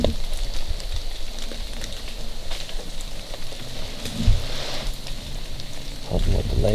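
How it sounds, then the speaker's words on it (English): Steady rain pours through a Michigan woodland on an October hunting-season morning after days of wet weather, a dense close hiss with occasional heavier patters and faint rustling. "It's been raining for almost 4 days straight now."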